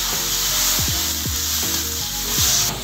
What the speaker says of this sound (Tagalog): ilagay na po natin yung ating padalawang gata